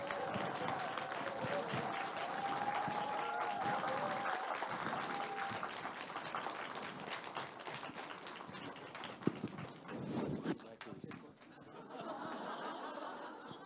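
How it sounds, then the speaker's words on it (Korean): An audience applauds at a lecture event to welcome former Olympic judo champion Lee Won-hee, a sustained wash of clapping with some laughter, continuing until a voice comes in near the end. "우리 한판 승의 사나이 이원희 선수를 한번 모셔보도록 하겠습니다. 큰 박수 부탁드리겠습니다"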